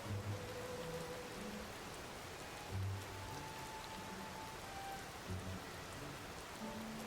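Steady soft rain on the ground and surfaces in the video game Zelda: Tears of the Kingdom, a faint continuous patter with low rumbling ambience underneath, no voices.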